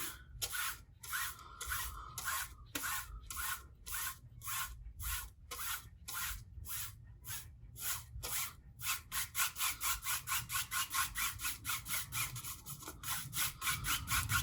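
Scraping black gloss enamel paint across a canvas panel, a steady run of rhythmic rasping strokes, slower at first and then quicker and denser, close and continuous with no talking.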